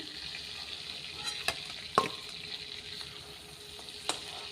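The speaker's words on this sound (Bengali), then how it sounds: "এইভাবে মাছগুলো হালকা ফ্রাই করে আমি উঠিয়ে নিচ্ছি" Six large prawns fry lightly in a pan with a soft, close sizzle, marked by a few distinct clicks and scrapes of a utensil.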